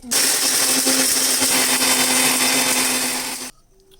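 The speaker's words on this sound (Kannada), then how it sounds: "ಸೊ ಇದನ್ನು ಇವಾಗ ರುಬ್ಕೊಡ್ತೀನಿ. ನೀರು ಹಾಕ್ಬಾರ್ದು, ಹಾಗೆ ರುಬ್ಬೇಕಿದೆ." A mixer grinder runs dry with spices and no water added, a loud steady whirring drone with a constant hum that holds for about three and a half seconds and then cuts off abruptly into near silence.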